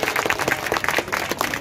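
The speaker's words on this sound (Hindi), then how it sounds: "एक बार जोरदार तालियों से इजाजत दें सभी की।" Audience applause at a Hindi poetry recitation, a dense run of close hand claps with uneven bursts, moderately loud throughout the short span.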